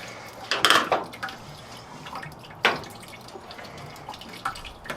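Coolant draining from the radiator of a 1966 Ford F250 with a 352 FE engine, heard as close dripping and splashing with a couple of louder clinks and bursts, otherwise a quiet garage background.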